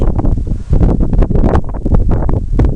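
Wind gusts on an outdoor walk among trees, giving a steady, loud rushing roar with buffeting against the microphone throughout.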